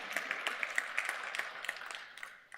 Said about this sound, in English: I'm going to ask you to give yourself another round of applause